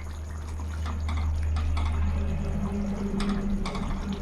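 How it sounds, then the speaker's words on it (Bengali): Pointed gourd simmers in curry gravy for potoler kalia, a steady close bubbling and hiss with a constant low hum underneath and no voices. "এবার পটল দিয়ে কিছুক্ষণ ফুটিয়ে নেবো।"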